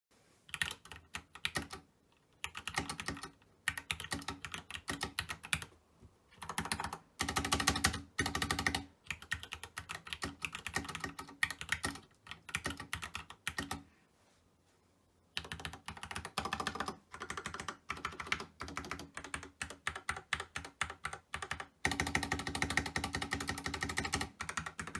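Rapid clacking keystrokes from a handmade mechanical keyboard, typed in bursts with short pauses and a couple of longer silences, close and crisp.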